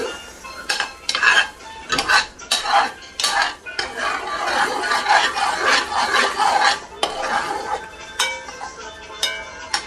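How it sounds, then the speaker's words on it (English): Jackfruit jam simmering in a pot is stirred with a utensil, giving repeated scraping and clinking strokes against the metal pot, close and fairly loud, in an uneven steady rhythm with no talking. "Let it keep on simmering and stirring I will do."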